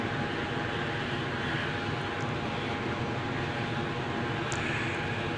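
An Airbus A320 in a flight simulator rolls along the runway with its engines given a little throttle, a steady, loud broadband jet roar and hum that holds even throughout with no breaks.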